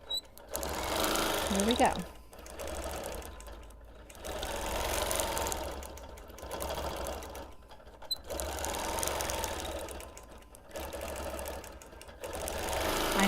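A sewing machine stitches in the ditch along a quilt block, running in bursts of rapid mechanical chatter separated by short pauses, close and clear, with a brief spoken remark near the start.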